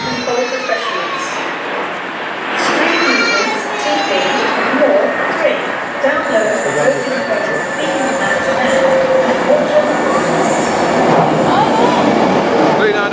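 A train on a British line toward Crewe rumbles and clatters nearby, with metallic wheel squeals and rattling carriages, while people talk over the noise.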